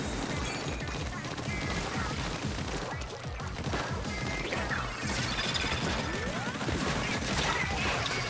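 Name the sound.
Tenta Missiles special weapon firing in Splatoon 3 video game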